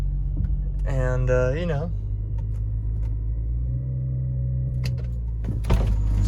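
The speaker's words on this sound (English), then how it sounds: "Let the raised idle kind of get her moving." A BMW e92 335i at a raised cold-start idle, warming up and rolling off without throttle: a steady, low engine rumble runs throughout while a person speaks briefly near the start.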